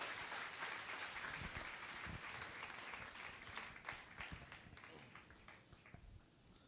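An audience at an IAS toppers' seminar applauds loudly, dense clapping running throughout and thinning slightly toward the end.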